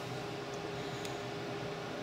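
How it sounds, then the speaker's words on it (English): A steady, even whir of a small electric fan heater running in the background of a woodturning workshop, constant and unchanging, with a faint low hum and no voices. "I've just got a little fan heater going"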